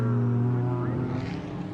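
A Trans Am race car at Mid-Ohio, just spun off the track, keeps its engine running with a steady, loud, low rumble that churns on continuously for the whole moment.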